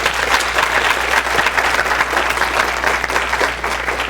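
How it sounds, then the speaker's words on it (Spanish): Audience applause welcoming a teacher at a school conference on AI, ethics and education, a sustained, loud, even patter of many hands over a low steady hum. "le damos un fuerte aplauso a la maestra y comenzamos"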